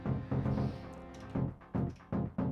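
Synthesizer chords built from three detuned oscillators plus a sub oscillator pulse in short stabs, thick and low-heavy, fairly quiet with gaps between hits.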